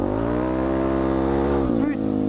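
A Suzuki DRZ motorcycle engine, running again after a carburetor repair, revs loudly up close with a steady, rich buzzing drone, then drops briefly in a quick throttle blip before settling back.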